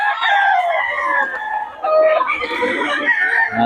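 Chickens with a rooster crowing in Bocaue, a loud, near run of overlapping crows and clucks that fills the whole stretch without pause.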